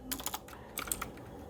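Code typed on a computer keyboard: a quick, close run of light key clicks in two short bursts, with no voice.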